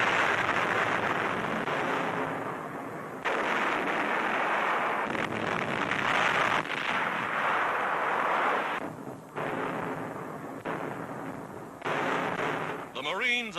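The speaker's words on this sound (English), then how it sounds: "Dawn, and the Navy's big guns open fire." Naval big guns fire an artillery bombardment at dawn on a hostile island shore in WW2, heavy rumbling blasts and continuous roar under a narrator's voice.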